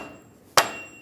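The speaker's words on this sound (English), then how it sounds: "And take a dead blow hammer" A dead blow hammer taps the stub shaft and axle seal into place on a 2007-2013 Chevrolet Silverado 1500 front axle, heard as a single sharp, close knock in an otherwise quiet space.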